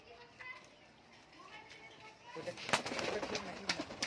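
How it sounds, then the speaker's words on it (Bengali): Lotan pigeons in a loft, including a red and a white bird, with soft cooing and wing flutters close by, growing busier and louder toward the end as birds move about. "সেটিং জোড়া আছে একটা লাল আছে লোটন একটা সাদা লোটন আছে"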